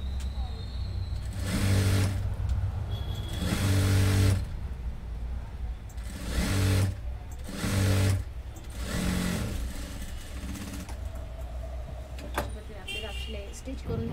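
A sewing machine top-stitches a blouse waistband in several short bursts of whirring stitching, separated by brief pauses, over a low steady background hum.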